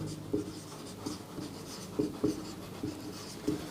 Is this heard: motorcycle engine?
no